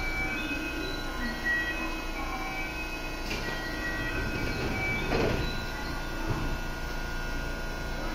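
A rapid train pulls out of a Nishi-Akashi station platform on the Sanyo line after its doors close, giving a steady broad rumble of rolling rail cars with a few brief metallic squeals and swells, and no talking.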